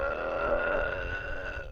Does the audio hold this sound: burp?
yes